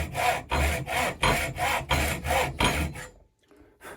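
Hand hacksaw cutting a slot in forged steel for a survival axe, seven steady rhythmic back-and-forth strokes, close and loud, then stopping.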